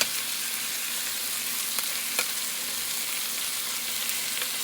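Chicken sizzling steadily on a hot grill, a constant close hiss and crackle with a few small pops, no voices over it.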